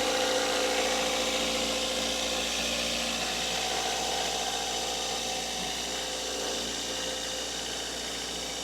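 A 2004 Toyota Corolla engine idles fast at nearly 2,000 RPM from a suspected vacuum leak, a continuous buzzing hum with faint mechanical whine, unchanging and close, with no talking.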